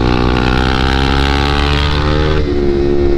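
A group of five KTM 390 motorcycles rides together, their single-cylinder exhausts blending into a loud, continuous throbbing drone close by, with pitch shifting slightly as one rider changes throttle near the end.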